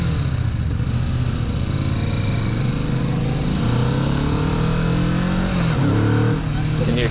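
A Kawasaki Vulcan S motorcycle engine lugs in fifth gear on an uphill ride, a steady low drone with a slight rise in pitch over wind rush, loud and continuous throughout.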